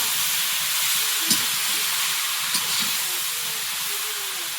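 Taro leaves and potato fry in oil in a pan, a steady soft hiss of sizzling with faint occasional pops, no voices.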